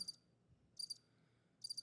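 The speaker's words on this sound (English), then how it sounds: "Crickets." Crickets chirp in a faint, regular pattern, with short high bursts repeating about once a second against a quiet background.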